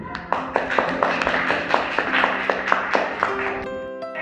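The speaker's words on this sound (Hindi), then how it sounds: "जोरदार ताली मारें इसके लिए" A group of hands clapping steadily at close range at a Republic Day celebration, the claps even and rhythmic with no talking over them.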